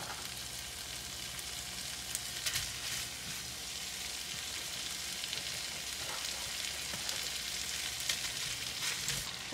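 Sausages and shrimp fry together in a skillet, a steady, close hiss and sizzle with scattered crackles and pops throughout, and no voices.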